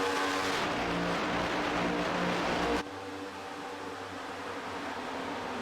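Race cars circle a speedway track at the Brickyard in a broadcast, their engines making a steady, dense buzzing roar that drops abruptly to a lower drone partway through, with no voices.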